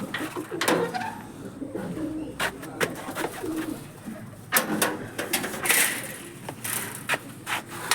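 Pigeons released by a pigeon keeper coo nearby, with soft throaty calls, wing flutters and scraping on wood, plus faint murmuring voices in the background.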